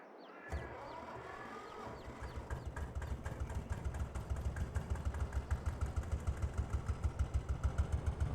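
A tractor engine from Farming Simulator starts and settles into a steady, rhythmic idle, its low chugging pulses growing slightly louder and clattery over several seconds, with no talk.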